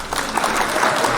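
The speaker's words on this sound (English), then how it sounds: "Hit the clap for that news, though." A short burst of applause from a small group in a morning radio studio, clapping steadily for a moment.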